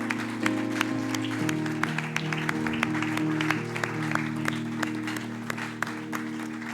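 A church congregation applauds a newly blessed couple at a wedding, with steady, fairly close clapping over sustained keyboard tones and a faint voice.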